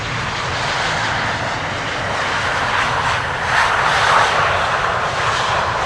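A Finnair Airbus A350 airliner arriving at Amsterdam Schiphol roars with a broad, steady engine rush that swells slightly toward the end, loud and sustained with no talk.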